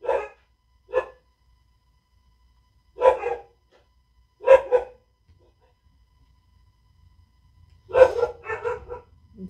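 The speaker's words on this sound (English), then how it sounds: "The dogs are barking." Dogs barking in short separate bursts, a single bark, then pairs and a final cluster of several barks, fairly close and loud with silence between them.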